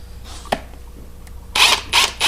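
A Ridgid 18V brushless quarter-inch pulse driver drives a 1/4 inch, 4.5 inch lag bolt into undrilled wood, heard as a couple of faint clicks and then three loud close bursts of whirring, rattling impulse action.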